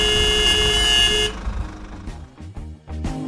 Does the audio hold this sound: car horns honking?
yes